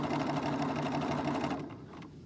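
A sewing machine back stitches over a reinforced crotch seam, its fast, steady needle hum running loud and close for about a second and a half before stopping abruptly.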